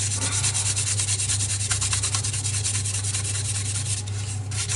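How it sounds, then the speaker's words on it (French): Hand sanding on the bodywork of a Citroën 15 CV car makes a loud, continuous, rhythmic rubbing rasp at close range, with no talking. "Je ponce."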